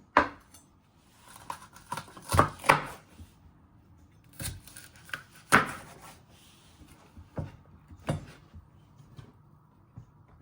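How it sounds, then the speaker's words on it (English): A knife chops vegetables on a cutting board in scattered, sharp knocks, some loud and some light, close by with quiet pauses between cuts. "chop it down the middle again, turning it around and then chopping it into three"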